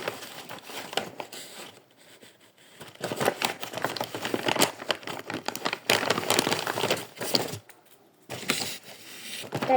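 A plastic packet crinkles and rustles in bursts as it is handled and unpacked, close up, with short quiet gaps between the rustling spells and no talking.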